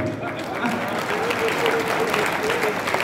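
Dense, steady applause from an audience at a religious discourse gathering at Ramanreti ashram, many hands clapping continuously throughout with voices mixed in.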